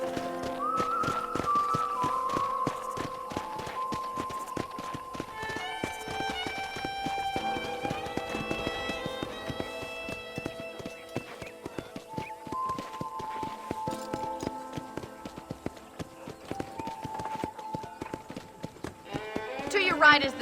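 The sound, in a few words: horse hooves walking in video game Red Dead Redemption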